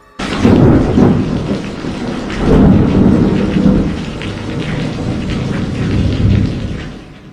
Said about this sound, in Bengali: দেখতে দেখতে ভীষণ ঝড় শুরু হয়ে গেল একটু পরই বাতাসের সাথে শুরু হলো চরম বৃষ্টি